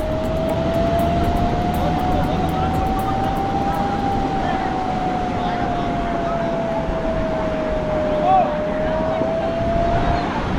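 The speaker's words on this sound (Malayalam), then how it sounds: "ബോട്ട് ഇതാ വരുന്നത്" A boat motor drones steadily off a Goa beach with a constant hum and a faint whine, holding at an even loudness throughout, mixed with wind and water noise.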